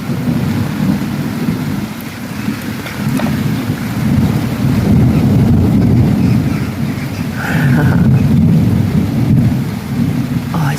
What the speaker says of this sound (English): We've got some great thunder going on at the moment.